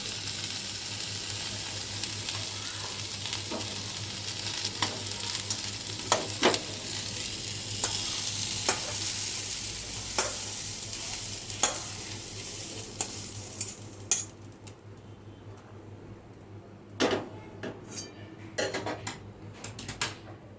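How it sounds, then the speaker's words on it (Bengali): Potatoes and jackfruit pieces sizzle in oil in a pan while a metal utensil repeatedly clinks and scrapes against it. The frying hiss fades partway through, leaving scattered sharp utensil knocks. "আলু আর কাঁঠালগুলো আমি খুব ভালো করে ভেজে নিয়েছি, এখন তুলে নিচ্ছি।"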